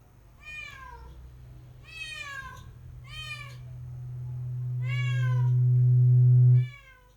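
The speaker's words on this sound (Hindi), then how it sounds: "कबरी बिल्ली।" A tabby cat meows five times in a row, with clear, close calls spaced about a second apart. A steady low hum runs underneath, swells louder toward the end, then cuts off.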